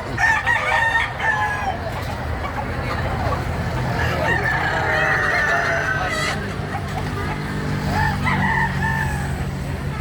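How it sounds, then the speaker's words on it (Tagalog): Large native fighting roosters and chickens at a market stall, with several loud crows rising over continuous clucking and a crowd's background chatter. "Manok po. Malalaki lang po."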